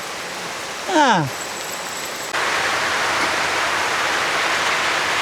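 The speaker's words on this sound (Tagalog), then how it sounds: "Umuulan na naman." Steady rain sets in and falls evenly around a rural home with pigs, a continuous hiss that follows a brief voice and a short rising call.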